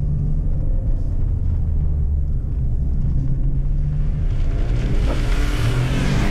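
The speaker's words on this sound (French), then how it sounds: "On va faire du Gymkhana dans le parking Peugeot." A Peugeot 406 V6 is thrown around a parking lot in gymkhana driving, its engine a low, continuous rumble heard from inside the car, with tire and road noise building toward the end.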